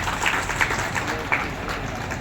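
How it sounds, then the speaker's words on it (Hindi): An audience claps at a police officer's farewell ceremony: dense, steady applause from a crowd, fairly loud and continuous, with a few sharper claps standing out. "सभी लोग तालियों से स्वागत करेंगे।"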